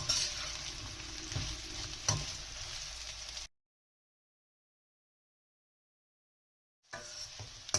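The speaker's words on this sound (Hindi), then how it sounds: "ये फुलके जो है हमें स्लो फ्लेम पे इसको लाइट फ्राई करना है" Sindhi phulka pieces lightly frying over a slow flame while a spoon stirs them, a soft steady sizzle with occasional scraping clinks, cut off by a gap of silence before resuming.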